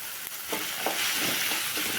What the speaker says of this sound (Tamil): கொஞ்சம் வதக்கி விட்டுக்கலாம்